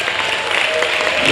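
A school symposium audience claps steadily and densely for the whole moment, a continuous wash of applause with some voices mixed in.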